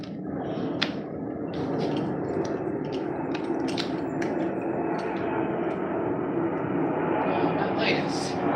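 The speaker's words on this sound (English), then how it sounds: "That plane's flying low." A low-flying fixed-wing airplane passes overhead with a loud, continuous engine roar that stays steady throughout, while people talk over it.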